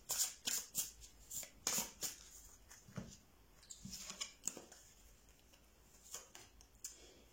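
Tarot cards shuffled and drawn during a reading: a run of quick, crisp papery flicks and snaps, close and fairly quiet, clustered in bursts with short pauses between, and no talking.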